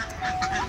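Belgian ducks on a duck farm give a short, close burst of nasal honking quacks, overlapping calls from several birds within a brief moment.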